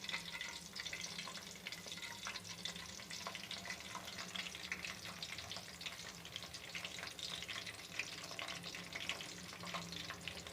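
Spiral-cut potato chips frying in a pan, a steady dense sizzle and crackle of hot oil running through the whole stretch with no voices.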